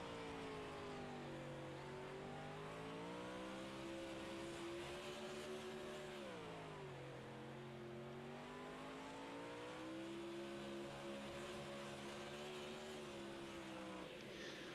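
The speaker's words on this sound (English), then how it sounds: "You can hear him working the throttle inside that 12 car." A sprint car engine on a dirt track drones and surges as the throttle is worked, pitch rising and dipping in waves, loud and continuous without speech.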